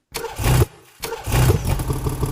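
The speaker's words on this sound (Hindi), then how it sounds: "तो कार की आवाज़ है।" Car engine sound preset in FL Studio, a synthetic engine cranking and catching twice in a row, the second start settling into a steady, chugging idle, loud and close with no talk.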